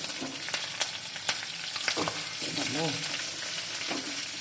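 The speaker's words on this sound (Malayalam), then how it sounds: "വെളുത്തുള്ളി ഇഞ്ചി പച്ചമുളക് അതൊക്കെ നന്നായിട്ട് മൂപ്പിക്കട്ടെ കേട്ടോ" Garlic, ginger and green chilli fry in a pan for a date and lemon pickle, giving a steady sizzle with scattered clinks of stirring and a brief voice in the background.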